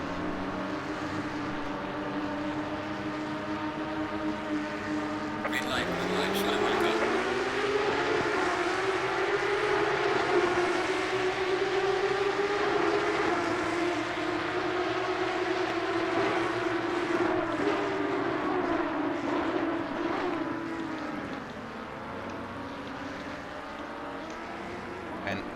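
Race cars launching together at the Imola start in the racing game Assetto Corsa Competizione, engine drones swelling and climbing in pitch into a sustained, layered roar that later eases off.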